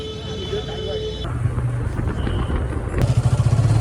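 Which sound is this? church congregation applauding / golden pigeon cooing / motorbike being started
motorbike being started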